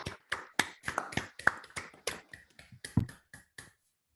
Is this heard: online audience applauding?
yes